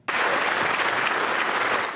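Sustained applause breaks out abruptly in a room in Geneva near 4 a.m. after the Iran nuclear deal is reached, dense and steady from many hands with no speech.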